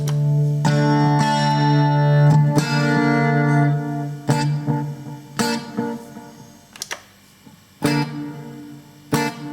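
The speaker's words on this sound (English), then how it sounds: "will have a bit of echo on." An electric guitar played through a Zoom G2 Nu multi-effects patch with light echo, ringing sustained notes and strummed chords with repeats trailing after each attack, heard alone.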